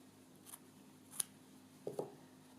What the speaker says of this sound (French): J'attrape mes petits ciseaux et je coupe l'excédent.